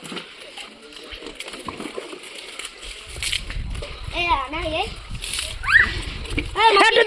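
Water splashes hard and repeatedly during outdoor Holi play, sloshing and splattering in bursts while children shout and talk excitedly over it.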